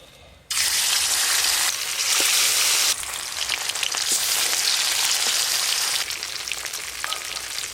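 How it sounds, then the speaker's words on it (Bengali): Spiced fish belly pieces from a 4 kg silver carp hit hot mustard oil with a loud, sudden hiss that settles into a steady, close sizzle with small crackles and pops. "সর্ষের তেল, মশলা মাখানো মাছের পেটিগুলো খুব ভালো করে ভেজে নেব।"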